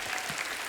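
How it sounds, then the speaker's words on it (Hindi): Brief burst of audience applause in a comedy talk-show studio, a dense steady wash of clapping from a crowd. "जोरदार तालियां हमारी ब्यूटीफुल गर्ल्स के लिए।"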